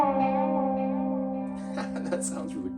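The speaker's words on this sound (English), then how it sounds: "A little echo in there." Electric guitar with an echo effect, sustained notes ringing and repeating with a reverberant tail, then a few picked notes near the end.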